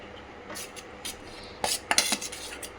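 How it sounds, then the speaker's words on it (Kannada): Marinated paneer being added to a cooking pot for paneer biryani, heard as a few soft clinks and scrapes of a utensil against metal, growing busier and louder toward the end, close by with no talk. "ಮ್ಯಾರಿನೇಟ್ ಮಾಡಿರೋ ಪನ್ನೀರ್ನ ಈ ಥರ ಹಾಕ್ಕೋಬೇಕು."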